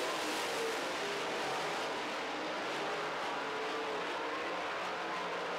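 Late model race cars circle a track during a feature race, heard as a continuous, even wash of engine roar at a moderate distance with no distinct pass-bys standing out.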